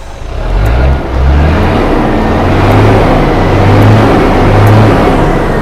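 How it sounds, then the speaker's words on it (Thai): A Hino 700-series truck engine revs as the accelerator is pressed, giving a loud, close, continuous diesel drone with a brief dip near the start before it holds steady. "เดี๋ยวลองเหยียบคันเร่งดูครับผมไปดูควัน"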